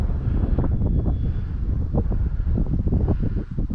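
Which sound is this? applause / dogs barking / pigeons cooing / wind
wind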